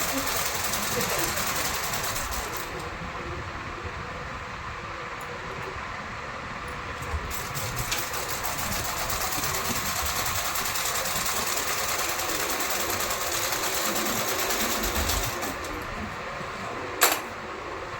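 Sewing machine running steadily while stitching the side seam of a 44-inch blouse, a continuous mechanical whir with slight variations across the clip and a brief click near the end.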